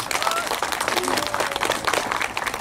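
Applause from a seated crowd at an Ahn Jung-geun memorial ceremony, steady dense clapping filling the room at close range, continuous and fairly loud throughout.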